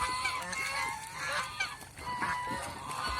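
Several geese honk close by in repeated, overlapping nasal calls, loud and steady throughout.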